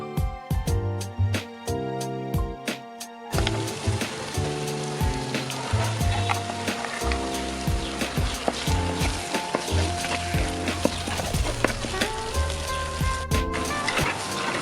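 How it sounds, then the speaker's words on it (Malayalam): Ground masala paste frying in a pan for a fish curry gives a steady, close sizzle that runs through the clip beneath prominent tonal background music. "ഒരു 3-4 മിനിറ്റ് ഈ അരപ്പ് അതിനകത്തിട്ടൊന്ന് മൂപ്പിക്കുക."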